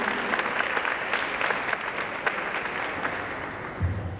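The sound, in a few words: audience applause at scholarship gala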